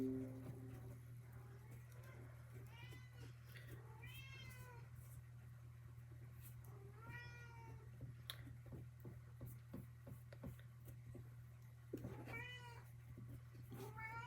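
Cats fight nearby, letting out repeated drawn-out meows and yowls over a steady low electrical hum, fairly faint, with scattered small clicks and scuffles between cries.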